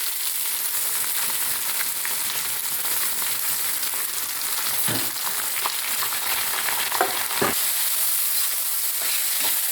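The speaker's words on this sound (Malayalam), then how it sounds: "സവാള നന്നായിട്ട് ബ്രൗൺ കളറായി വരുന്നത് വരെ നമുക്കതൊന്ന് ഇളക്കി കൊടുക്കാം." Thinly sliced medium onions sizzle in a pan for a desiccated coconut chicken roast while they are stirred: a constant loud frying hiss with scattered scraping knocks from the spoon, and no talking.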